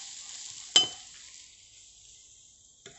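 Turmeric powder being stirred into egg bhurji in a hot pan, a soft sizzle with one sharp clink of a utensil against the pan and a fainter tap near the end.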